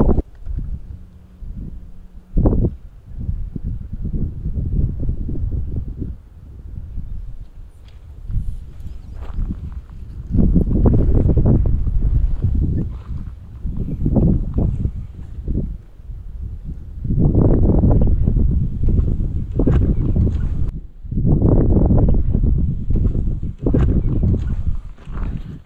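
Wind gusting outdoors during a bear hunt, heavy low buffeting rushes on the microphone that swell and drop in long irregular waves, loud and close, with light rustling in the quieter gaps.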